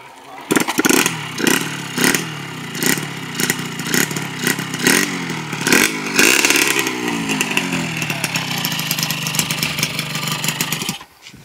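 A motorcycle engine revs hard through repeated gear shifts, its pitch climbing, dropping and sweeping up again, loud and close with sharp clattering bursts for about eleven seconds.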